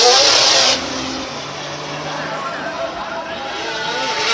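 Mad Mike's 1100hp four-rotor Mazda RX-7 drift car roars loudly and continuously during a run at Ebisu, the engine note staying sustained and aggressive throughout, with a commentator talking over it.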